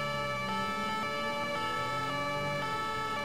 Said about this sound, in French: Je coupe mon deux tons parce qu'il y en a déjà suffisamment